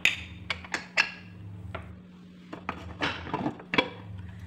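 The lid of a pressure cooker holding cooked broken wheat is opened after the steam is released, producing several sharp metallic clinks and clanks of metal on metal, spread irregularly across a few seconds.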